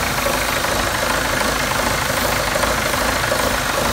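John Deere 6400 tractor engine idling just after its first start following a rebuild, a loud, steady, knocking diesel rumble up close with no talk.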